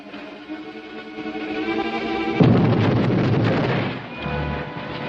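A sudden loud blast rolls in over a steady rumbling background, followed by a long crackling roar that slowly fades.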